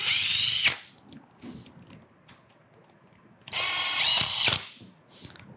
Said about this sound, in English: So I've got an 1/8 inch bit on my drill here. I'm going to run these in.